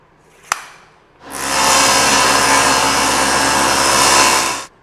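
Cherry wood being cut on a power saw with a miter gauge: a sharp knock, then the blade whines loudly and steadily through the board for about three and a half seconds before stopping.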